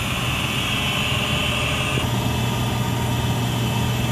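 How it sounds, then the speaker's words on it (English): A gas furnace blower motor hums in a steady, even drone that moves warm air through a house, with a slight change in tone partway through and no talk. "the actual blower motor takes the air in the house and blows it and warms it to the rest of the house"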